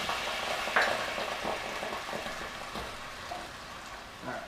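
Garlic sizzles in a hot pan as half a cup of white wine goes in, a steady hissing fry with a couple of soft clinks and stirring scrapes, close and without talk.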